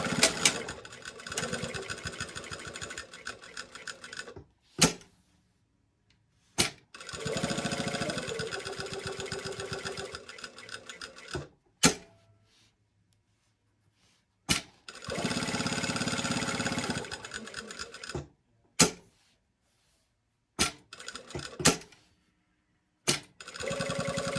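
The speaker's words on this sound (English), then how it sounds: "I'm obviously sewing an uninterfaced piece to an interfaced piece, right sides together" A sewing machine stitches an uninterfaced fabric piece to an interfaced one with a size 16 needle and Gutermann Mara 100 thread, running in several bursts of busy mechanical whirring broken by short pauses and sharp clicks.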